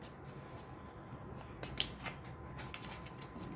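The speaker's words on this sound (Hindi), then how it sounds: "हम कार्ड शफल कर लेते हैं हमारे" Tarot cards being shuffled, a faint, soft papery riffling with a few light flicks and snaps, close and quiet with no talk over it.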